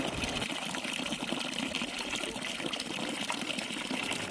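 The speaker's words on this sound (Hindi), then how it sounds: "आपको शेर की मुखाकृति वाला पानी का स्रोत दिखाई देगा, जो कि पीने योग्य पानी है।" Drinking water pours steadily from a lion-head spout at Kangra Fort in Himachal Pradesh, an even, close splashing trickle with no pauses and no voices.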